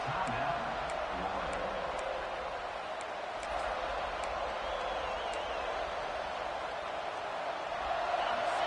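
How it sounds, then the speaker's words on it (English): Steady stadium crowd roar in an NCAA 26 college football video game, a dense continuous wash of cheering building behind the defense during a red zone stand, with faint ticks and whoops scattered through it. "This crowd is trying to inspire this defense to make a big red zone stop."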